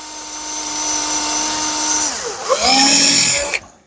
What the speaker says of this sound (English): I'm just going to drill a pilot hole first